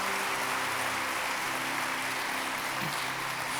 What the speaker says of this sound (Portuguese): Pode dar uma salva de palmas bem forte.